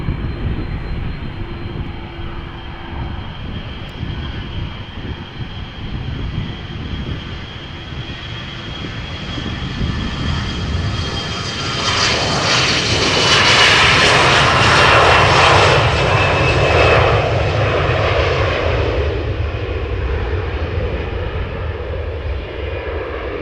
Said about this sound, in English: So this is Lufthansa flight 2303 CRJ 900 to Munich, München, in the south of Germany